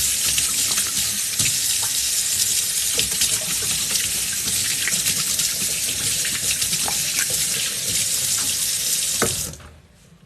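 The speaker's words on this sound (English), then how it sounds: "Let me wash my hand." Hands are washed under a running tap at a sink, with a steady loud gush of water and small splashes, close and without talk, until the flow stops abruptly near the end.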